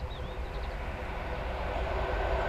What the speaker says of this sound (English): that's an East Midlands train going in the opposite direction from Nottingham to Norwich